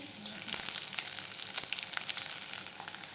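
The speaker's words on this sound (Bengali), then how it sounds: "মাছটা ভাজা হচ্ছে" Fish marinated in turmeric, salt and sour yogurt fries in a pan, giving a steady, dense close sizzle with small pops and faint stirring, no voices.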